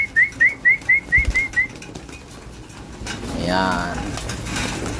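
Racing pigeons coo in a rapid repeating series, followed by a burst of wing flapping while they feed, with a voice speaking briefly over them.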